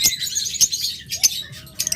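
A pair of green Fischer's lovebirds chirp close by, sharp high tweets repeating roughly every half second over a faint background murmur.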